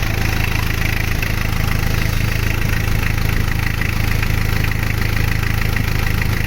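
A car engine runs steadily at a fast idle during a battery and generator test, a loud, continuous mid-pitched drone with even mechanical throb and no talking.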